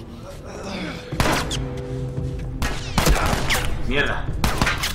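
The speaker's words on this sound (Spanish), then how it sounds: "Un disparo a la cabeza." Several sharp gunshots from The Last of Us Remastered crack out in quick bursts, mixed with game sounds and a man swearing in Spanish.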